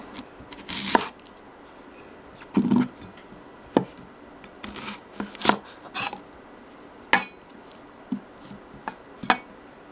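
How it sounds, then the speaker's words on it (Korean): A knife slices onions into wide pieces about 3 mm thick on a cutting board, producing irregular sharp taps and thuds spaced a second or so apart over a quiet background. "자, 양파 이제 썰어 줄게요."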